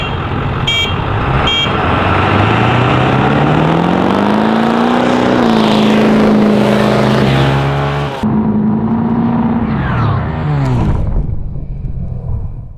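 A motorcycle and a Power Stroke diesel van race side by side, loud and close, with engine whine climbing and sustaining through rising revs, a sharp cut, then a brief surge before fading.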